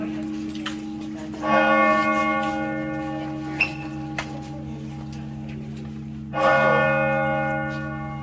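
A monastery church bell on a Greek island tolls twice, each strike ringing out and slowly fading, over a steady low hum with a few small clicks between.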